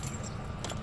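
Keys jangle close up in the cab of a 2005 Ford F-150 with a 4.6 liter engine as it is switched off, a brief metallic rattle over a low vehicle rumble.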